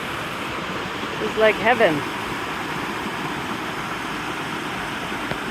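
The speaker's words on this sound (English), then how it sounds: "We're just walking up this series of small pools and waterfalls near San Cipriano, Colombia." Small jungle waterfalls spill into a series of pools near San Cipriano, Colombia, a steady close broadband rush that never lets up, with a brief spoken remark partway through.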